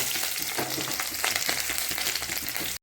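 Garlic and green chilli sizzle hard in hot mustard oil after cumin seeds go into the pan, a dense, steady crackle with a few stirring scrapes. The frying stays loud and close throughout, then cuts off abruptly at the very end.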